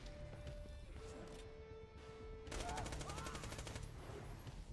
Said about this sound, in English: Holy, this gun rips. This SMG right here.